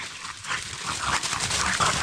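Dogs romp around a fairly open forest with few bushes, their rustling movement and scattered snuffling sounds steady and moderately close throughout, with no speech over them.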